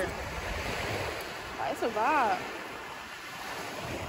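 Steady wind and surf wash across the microphone on a sunny, windy beach at Cabana Beach while a voice speaks briefly in the middle.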